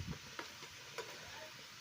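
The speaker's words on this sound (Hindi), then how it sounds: "तो इसी तरह से इसे हम घुमाते हुए चलाते हुए फ्राई कर लेंगे।" Litti balls frying in oil in a pan while being stirred and turned, a faint soft sizzle with a few light scraping ticks, quiet and continuous without speech.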